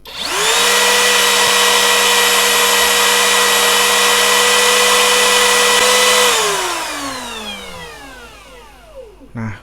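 A Modern M80 cordless wood trimmer, a power tool, whines loudly at high speed with a steady motor tone for several seconds, then spins down with a falling pitch.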